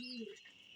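A pigeon gives a brief, close coo during sun drying of young birds, a short single call over faint background noise.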